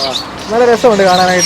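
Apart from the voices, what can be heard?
finches chirping in a bird shop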